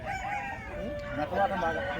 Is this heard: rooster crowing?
yes